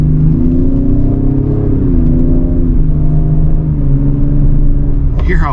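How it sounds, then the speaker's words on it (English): A 2025 Ford Explorer ST engine pulls hard and rises in pitch, dipping briefly at quick upshifts as it climbs through the gears; the sound is loud and steady, heard from inside the cabin. "Hear how fast it's shifting up through the gears?"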